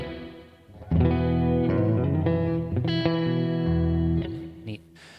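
Clean electric guitar chords ring out with a touch of room reverb, strummed changes sustaining and decaying, up close with no talking.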